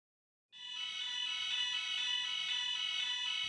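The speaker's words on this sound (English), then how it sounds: "In the event of a fire, the alarm can be sounded by activating the alarm manually." A hospital fire alarm sounds abruptly after a brief silence, then holds a loud, continuous, harsh electronic buzzing tone at close range with no voices.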